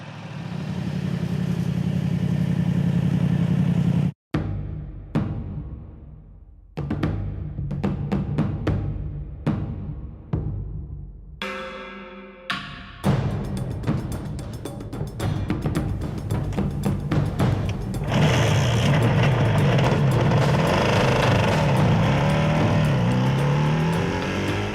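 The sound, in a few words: Yamaha YZF500 four-cylinder motorcycle being ridden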